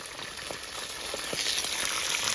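Food fries in a pan outdoors in cold Canadian weather, a steady bright sizzle with occasional soft pops and spatters, close and continuous, slowly growing a little louder.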